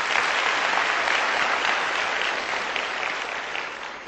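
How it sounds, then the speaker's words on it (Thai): An audience at a motivational talk claps in dense, continuous applause, loud at first and easing slightly toward the end, with no voices over it. "ปรบมือให้งานที่มีเกี่ยวกับพวกคุณหน่อยนะครับ"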